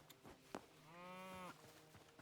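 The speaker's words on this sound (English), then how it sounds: "Cow!" A cow in the video game Hytale gives a single clear, drawn-out moo lasting about half a second, with faint footsteps and small clicks around it in an otherwise quiet scene.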